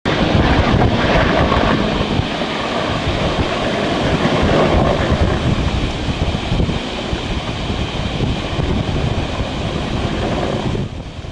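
Helicopter flying over Burrill Lake and its coastal sandspit and dunes in the early 1980s, a steady loud rotor and engine roar with wind buffeting on the microphone, unbroken from start to finish.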